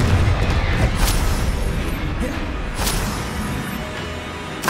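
Blasting-curse explosions from Confringo in Hogwarts Legacy: a dense run of booming impacts and crackling bursts over a constant rumble, loud and close, with brief sharp cracks punctuating the din.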